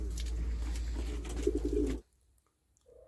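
Low, soft pigeon cooing rumbles steadily over a background hum for two seconds, then drops to near silence with a faint tone at the end.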